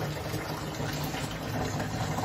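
Water runs from a kitchen tap while a spoon is washed, a steady close gushing splash lasting a couple of seconds with no talk.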